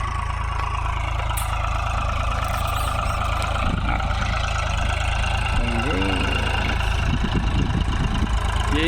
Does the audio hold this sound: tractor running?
yes